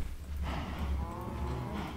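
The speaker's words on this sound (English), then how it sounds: "Get more breedy cows on the go." Cows in Minecraft moo with a low, drawn-out lowing that carries through the whole two seconds, close and clear, with no talking over it.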